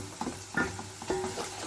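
Onions fry and brown in a pot, with a soft continuous sizzle broken by a few scraping stirs from a spoon, heard fairly close while cooking mutton yakhni pulao.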